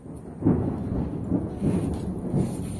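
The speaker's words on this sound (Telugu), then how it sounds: "అప్పుడు వర్షం వచ్చింది అయితే డబ్బల రేకుల మీద పడ్డాయి చినుకు" Steady patter of rain on tin roof sheets, a dense continuous wash with low rumbling swells recurring every second or so, moderately loud and close, with no voices.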